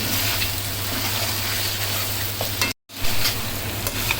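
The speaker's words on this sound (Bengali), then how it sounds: "এখন দিয়ে আরও কিছুক্ষণ নেড়ে তেড়ে ভাজা ভাজা করে নিতে হবে" Steady sizzling of beef frying in a pan with scraping stir strokes, close and continuous, broken by a brief moment of silence.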